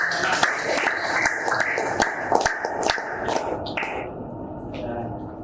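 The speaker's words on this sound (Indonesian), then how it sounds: "Sekali lagi tepuk tangan untuk" Classroom applause during a mathematics lesson, a small group of students clapping unevenly with distinct sharp claps that thin out and fade toward the end, and voices can be heard underneath.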